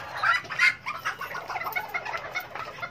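A tiny serama bantam chicken clucks softly and repeatedly at close range in a steady, chattering run of low calls during feather trimming, with no voices.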